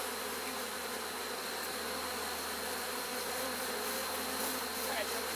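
Honeybees drone in a dense, continuous buzz from an open hive with a new queen, close and steady throughout, with a brief spoken remark barely rising over the hum.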